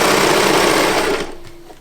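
A serger overlock machine runs fast along a knit seam, a loud close buzzing rattle that stops abruptly partway through, followed by faint handling noise.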